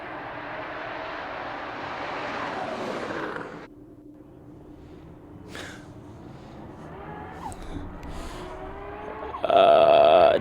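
A Nissan GT-R at an Australian roll racing event accelerates hard, its engine roaring loudly for a few seconds before cutting to a quieter, distant drone, then a loud burst returns at the end.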